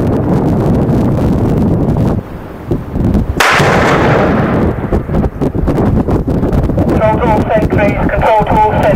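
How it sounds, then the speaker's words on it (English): A 30-second warning shot fired before an explosive demolition: one sharp, loud outdoor blast cuts in mid-clip, with wind buffeting the microphone and people talking before and after. "that was the 30-second warning shot"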